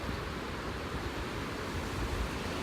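Ocean surf along the coast at Imperial Beach, California, a faint, steady wash of broadband noise with wind mixed in, continuous and without distinct breaks.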